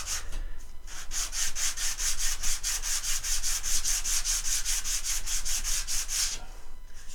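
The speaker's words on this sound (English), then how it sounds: "to sand it, you just do like this" Hand sanding of a wooden trebuchet part, a steady run of about twenty brisk back-and-forth rubbing strokes, close and fairly loud, with no voices.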